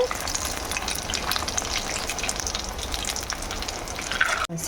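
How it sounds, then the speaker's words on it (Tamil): Potato balls deep frying in oil, a dense, continuous crackling sizzle that stays loud and close for the whole stretch, with a sudden brief break near the end. "இப்போ வந்து அந்த பால்ஸ் வந்து நான் ஆட் பண்ணுறேன். ஸோ நல்லா ஃப்ரை பண்ணிக்கோங்க."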